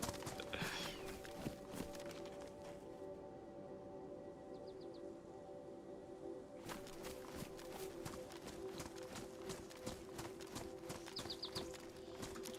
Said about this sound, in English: Thought I heard footsteps for a second.